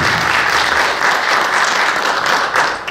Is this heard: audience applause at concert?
yes